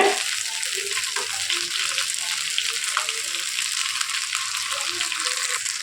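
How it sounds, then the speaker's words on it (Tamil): Brinjals fry in a pan as they are turned again and again, giving a continuous, moderately loud sizzle with soft scraping and turning noises scattered through it. "நல்லா வேகுது இப்போ நம்ம திருப்பி திருப்பி விட்டு வே நல்லா வேக வச்சிடணும்"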